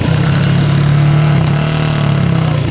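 A rally car's engine drones loud and close during a rally sprint, a sustained buzzing rasp that holds steady with slight shifts as the driver works the gas and brakes.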